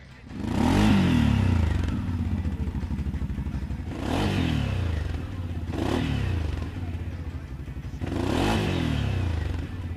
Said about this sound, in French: La sonorité du bloc V2 est très agréable et ne nuit pas à la balade